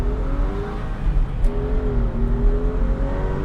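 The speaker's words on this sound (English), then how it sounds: "setting off in the Porsche 996 Carrera" A Porsche 996 Carrera with a rear-mounted 315-horsepower flat-six pulls away, its engine note steadily rising and holding at moderate loudness from inside the car, with no talking.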